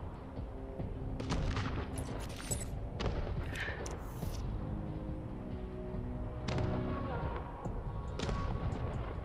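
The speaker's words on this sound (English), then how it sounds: "I can shoot the leg of this thing." Gunfire in the Wasteland 3 video game comes as a series of sharp, loud shots and impacts scattered through the clip, some in quick clusters, over a dense game score, with someone talking throughout.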